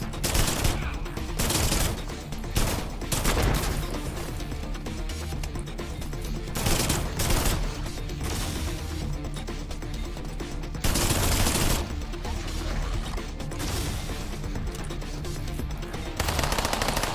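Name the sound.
enemy gunfire in System Shock Remaster video game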